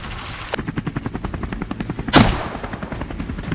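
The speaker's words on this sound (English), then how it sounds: "Gunfire erupts, one by one." Rapid gunfire from a helicopter during a wild boar hunt, a steady string of evenly spaced shots over the rotor thump, with one louder, sharper blast near the end.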